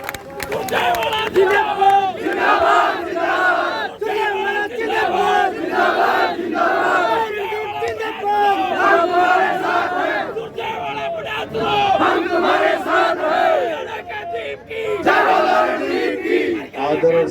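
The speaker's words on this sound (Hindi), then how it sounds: "अपनी बातों के एक बार जोरदार ताली से स्वागत करें आदरणीय सुरजेवाला जी" A rally crowd at a public meeting in Narwana roars and claps loudly for Randeep Singh Surjewala, a dense, sustained mass of cheering voices and applause.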